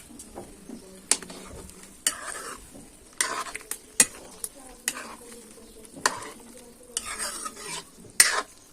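Food in a pot bubbles and simmers at a low boil in a home kitchen, with soft crackling and intermittent clinks and scrapes of a utensil stirring against the pot, fairly quiet and close.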